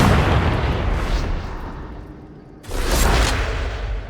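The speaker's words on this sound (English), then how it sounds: "Grenades can be equipped and thrown." Grenade blasts in the Warhammer 40K game Darktide: a loud, dense rumbling explosion that fades out, then a second heavy boom bursts in and roars on, with no voices.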